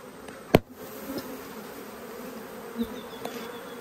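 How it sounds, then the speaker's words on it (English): Honey bees hum in a soft, steady drone close by on a hive frame, with a sharp thump as they are shaken off and a few faint knocks. "I'm going to shake these bees off here."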